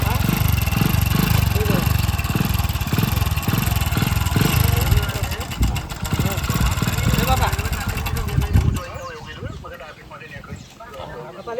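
A motorcycle engine idles with a low, steady pulsing rumble for most of the stretch, then fades. People talk loudly over it throughout.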